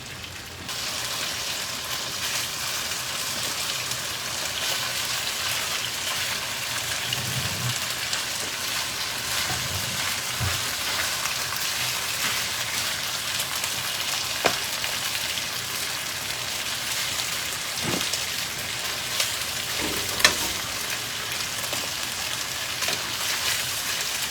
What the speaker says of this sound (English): So now we're putting in the beef.